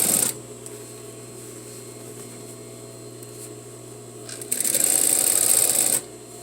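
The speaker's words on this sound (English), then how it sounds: "I'm going to fold seam allowance on top of the facing and just continue doing my edge stitch all the way around." A sewing machine runs steadily while edge-stitching a folded facing, a low constant hum with a louder burst of stitching near the end, close and without talk.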